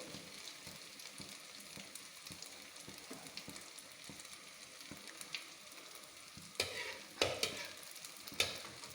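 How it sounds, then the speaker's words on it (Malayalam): Suhiyan, sweet dumplings, fry in a pan with a steady close sizzle; louder scraping stirs and clatters break in toward the end. "ഇതൊക്കെ നമ്മൾ വരട്ടിയെടുത്തല്ലേ അപ്പം സുഹിയനിങ്ങനെ മൂക്കുക"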